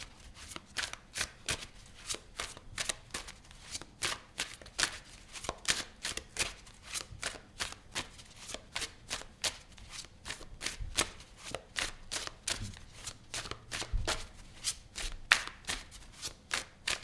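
Tarot cards are shuffled by hand in a long, quiet run of rapid riffles and slaps, each burst a crisp papery flutter repeating steadily, close up with no talking.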